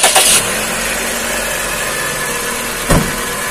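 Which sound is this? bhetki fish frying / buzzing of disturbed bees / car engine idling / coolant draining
car engine idling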